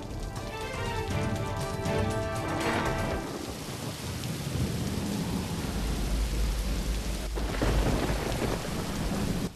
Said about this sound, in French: Il pleut vraiment beaucoup dehors.